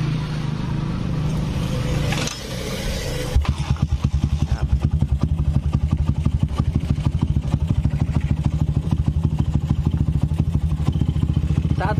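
A Honda GL Pro motorcycle fitted with a Jaguar ignition coil cranks and fires, then settles into a steady, fast-pulsing idle with a clattery engine note, close up.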